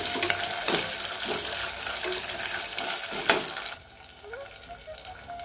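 Pigeon pea beans being stirred into onion masala in a pan, with a steady close sizzle and scraping stir strokes that ease off to a quieter simmer near the end.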